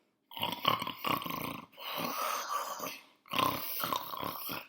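A voice imitates a giant's snoring, three long, rough, rumbling snores separated by short pauses, close and loud.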